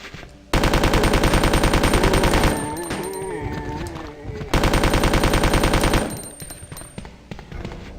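Rapid automatic gunfire in the video game Resident Evil 2, two loud sustained bursts of evenly spaced shots, each trailing into clinks and echoes before the next burst begins. No voices.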